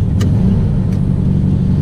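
A 1965 Volkswagen Beetle engine drones as a steady, close, low rumble, with a couple of faint higher ticks and no voices over it.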